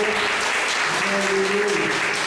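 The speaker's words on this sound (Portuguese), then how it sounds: "dá uma linda salva de palmas para o Senhor Jesus Cristo. Vamos aplaudir o Senhor." Church congregation applauding, a dense steady wash of many hands clapping at once, fairly loud and continuous throughout with no gaps.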